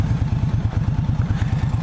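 A scooter putters past on a road, its small engine pulsing in a quick, even rhythm, close and fairly loud, with no one speaking.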